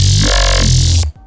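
A single sustained, dense VR-style growl bass synth note with its phasers turned down, buzzing thick and loud for about a second before cutting off abruptly.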